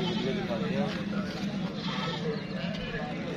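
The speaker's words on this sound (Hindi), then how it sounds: "बकरियों की वीडियो दिखा रहे हैं," Goats bleat at a crowded livestock market, the calls rising amid constant background chatter while someone talks over them.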